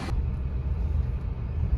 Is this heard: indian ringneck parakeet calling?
no